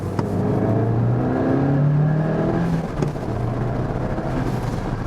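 An Abarth 595C Turismo with its 1.4-litre 165 hp engine pulls in sport mode, a steady close drone rising in pitch through the gears, with a brief shift dip midway.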